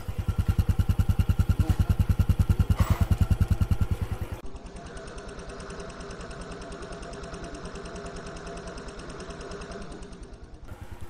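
A motorcycle engine idles close by in a steady, throbbing loop, loud at first and then settling to a lower, even rumble with a faint mechanical ticking and no talking.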